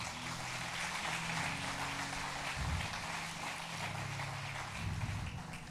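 A church congregation applauding, a dense continuous wash of clapping hands heard at a distance, steady and fairly faint, with a low rumble underneath.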